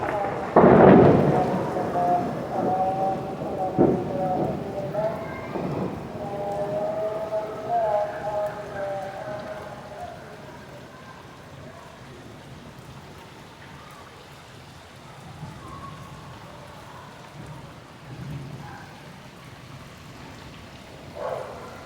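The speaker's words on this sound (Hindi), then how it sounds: "फिर तेज़ बारिश का सिलसिला शुरू हो जाता है" Heavy monsoon-style rain with thunder during a storm in Karachi, a loud rumbling roll of thunder early on, then steady rain hiss that slowly eases, with a faint voice in places.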